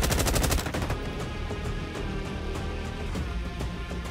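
Sustained automatic gunfire in the Frontlines video game, a dense rapid burst up front that gives way to continuous loud machine-gun rattle.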